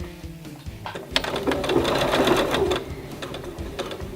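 Sewing machine stitching rapidly while back tacking through folded fabric and fold-over elastic butted right sides together, a steady close mechanical whir with a slight surge in the middle and no talking.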